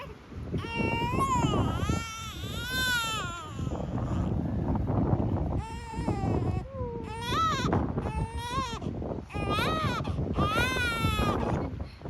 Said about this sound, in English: She's just grizzling because it's windy.